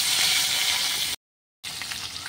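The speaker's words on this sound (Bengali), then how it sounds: "আমি 2 বারে মাছগুলো ভেজে নেব।" Pieces of snakehead (shol) fish frying in hot oil, a steady bright sizzle that cuts out briefly and then resumes, close and continuous with no talking.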